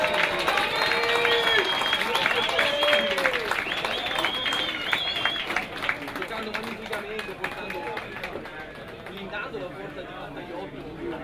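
Applause for the San Donà 1922 football players at a match against Albignasego, with a crowd clapping and cheering outdoors while voices and chatter rise above it, slowly easing off toward the end.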